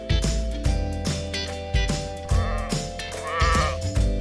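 Sheep bleat loudly and close in a steady series of wavering, quavering calls, about six in quick succession with no talking over them.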